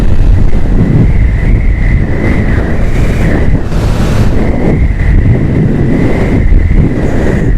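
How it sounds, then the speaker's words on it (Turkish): Strong wind roaring and buffeting the microphone during a night drive, a loud continuous rush with gusting surges throughout, no clear voices. "Nasıl bir rüzgar var böyle?"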